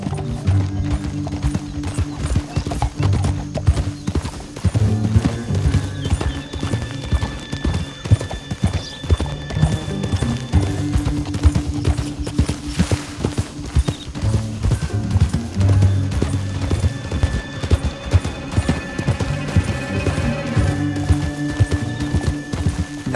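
Horse hooves clip-clopping at a steady gallop in the game Red Dead Redemption 2, loud and continuous over a low musical score, with an occasional whinny.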